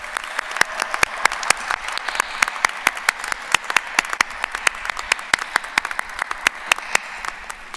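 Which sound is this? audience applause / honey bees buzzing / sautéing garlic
audience applause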